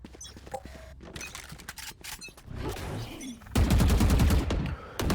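Rapid bursts of gunfire from a Valorant match, including wall-bang shots through cover, crackle loudly in dense, layered volleys with sharp transients and game effects, growing heavier toward the end, with no talking.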